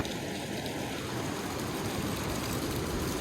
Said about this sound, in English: Can hear the creek down below.